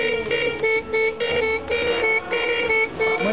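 Toy horn on a child's bicycle honking repeatedly in quick uneven bursts, bright and close, about eight toots over a few seconds with faint voices in the background.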